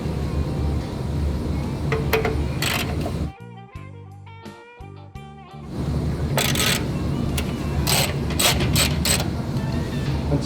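A ratchet breaking loose the bolts on a 2018+ Harley-Davidson Softail FXBB motorcycle fender during a full fender conversion. Close, repeated clicking of the ratchet comes in bursts, with a brief mechanical whir in between.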